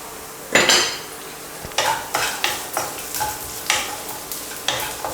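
Nuts and raisins frying in a pan, a steady close sizzle broken by a series of stirring scrapes at a regular rhythm.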